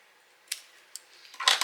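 Scissors snip through a small paper craft piece for a reindeer treat box, a few quiet isolated clicks followed by a louder, brighter burst of cutting near the end, close and without talk.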